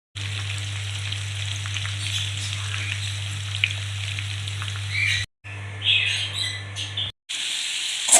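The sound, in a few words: onions frying in oil for mutton curry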